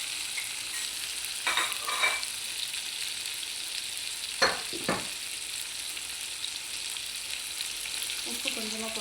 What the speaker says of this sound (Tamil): நாங்கள் கொஞ்சமாக உப்பு போட்டு வதக்கிடலாங்க.